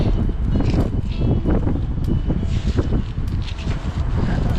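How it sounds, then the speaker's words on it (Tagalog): Strong wind roaring and buffeting against the microphone at sea during trap fishing, steady and loud throughout with gusty fluctuations. "ang lakas na ng hangin"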